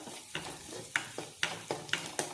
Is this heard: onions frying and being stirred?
yes